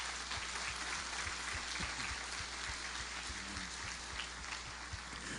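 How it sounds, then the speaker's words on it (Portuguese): A church congregation applauds together, with a steady wash of many hands clapping that is heard at a moderate distance and holds evenly from start to finish. A few sharper individual claps stand out from the crowd. "Vamos aplaudir a Deus?"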